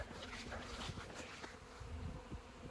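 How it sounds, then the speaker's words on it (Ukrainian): A hanging swarm of honey bees drones with a dense, continuous buzz, steady and fairly loud throughout, with no voices over it. "А тут в нього не то в стіні бджоли, в нього тут висить рій."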